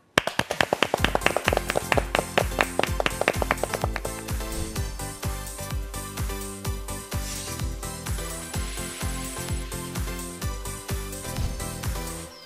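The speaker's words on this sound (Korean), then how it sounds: "박수로 맞아주세요" A studio audience welcomes a professor to a Korean real estate exam lecture with applause, crisp rhythmic claps at first, then a denser, steady wash of clapping under a tonal backdrop.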